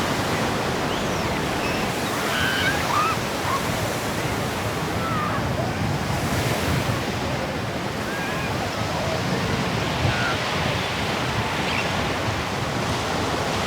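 Ocean waves rolling onto a Gulf of Mexico beach, a broad continuous wash of surf with wind buffeting the microphone and faint voices in the background.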